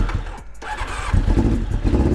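A cold 1999 Honda CBR 600F motorcycle on choke cranks briefly, then catches and fires into a rough, close, loud idle.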